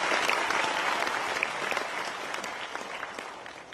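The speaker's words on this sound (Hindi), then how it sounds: "बहुत जोरदार तालियों से उनका स्वागत और धन्यवाद ज्ञापन करते हैं।" Audience at a large public celebration event applauding loudly and steadily, a dense continuous wash of clapping from a big crowd throughout.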